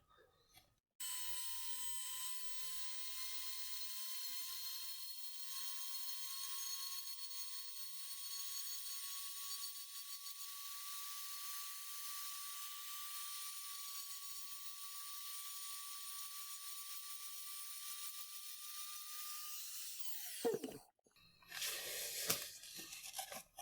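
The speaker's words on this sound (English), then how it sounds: "So we're going to grind that smooth so this can just plop right in." A rotary tool grinds down a molded elbow strap on a 3D printed clone commando armor piece, a loud steady high-pitched whine held for about twenty seconds before it winds down into brief scraping handling sounds.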